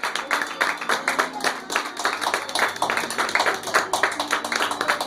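A church congregation claps and applauds together during a Spanish-language sermon, a dense, uneven patter of hands that keeps going at a steady level, with faint voices underneath.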